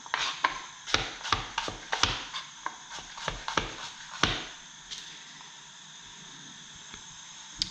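A knife slices vegetables on a cutting board with a string of crisp, close chops, quick at first and then spaced out, with a few soft taps trailing into quiet.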